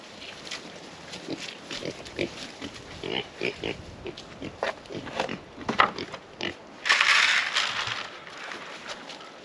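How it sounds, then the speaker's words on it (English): Pigs on a South Carolina homestead chomping and crunching spent grain up close, with wet chewing, rustling and occasional snorts, and a louder burst of crunching near the end. "So here are our pigs"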